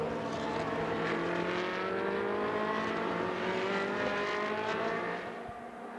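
Race cars on the final lap of a CoppaShell race at Hockenheim, a sustained loud engine drone with rising and falling harmonic whine as cars run through the track, fading slightly at the end, no voices heard.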